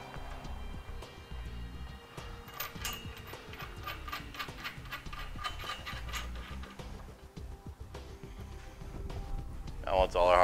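A ratchet clicks in quick, steady runs, tightening the nuts on the U-bolt of a Draw-Tite Sportframe trailer hitch on a 2015 Honda, with a few mechanical clunks and a voice joining at the very end.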